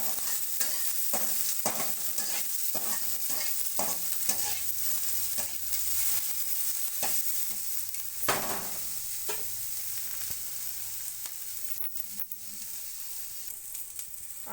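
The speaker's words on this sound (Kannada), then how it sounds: "ಇದು ಸ್ವಲ್ಪ ನಮಗೆ ಫ್ರೈ ಆಗಬೇಕು ಫ್ರೆಂಡ್ಸ್" Onions and curry leaves fry in a pan for a beetroot and egg palya, giving a steady close sizzle with repeated spatula scrapes and taps throughout.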